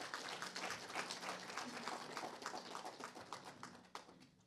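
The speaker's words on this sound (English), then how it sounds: "Please give her a loud applause." Audience applause at a lecture-series event, a crowd clapping in a fairly quiet, roomy space, the claps fading gradually over a few seconds.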